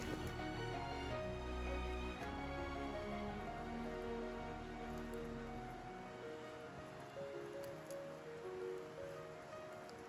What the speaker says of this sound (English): Rain's starting to come down hard.